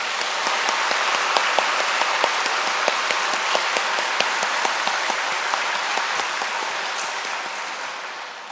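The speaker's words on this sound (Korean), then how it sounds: "이런 마음을 담아서 크게 박수로 한번 우리가 드리겠습니다" Sustained applause from a church congregation during a Sunday service, dense steady clapping that holds strong throughout and eases slightly toward the end, with no talking over it.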